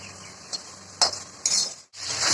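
Chicken stir-frying in a pan during a Bengali chicken kosha preparation, with a spoon scraping and stirring in several short bursts over a low steady sizzle, close and moderately loud, with no talking.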